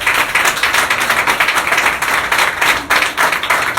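A church congregation claps and applauds during a sermon, a dense, steady wash of many hands slapping together without pause, fairly loud and close with no talk over it.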